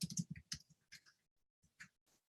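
Quiet typing on a computer keyboard, a quick run of irregular key clicks that thins out into a few scattered taps, with no voice over it.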